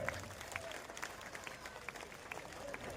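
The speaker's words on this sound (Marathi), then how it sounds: "जोरदार टाळ्यांच्या गजरामध्ये आपण साहेबांना सदिच्छा आणि शुभेच्छा द्यायच्या आहेत" Faint audience applause at an award felicitation during an anniversary celebration, with scattered claps over a soft crowd murmur in the background.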